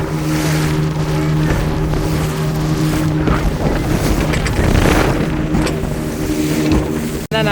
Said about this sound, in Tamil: நாங்கள் போட்டில் போய்கிட்டு இருக்கோம்.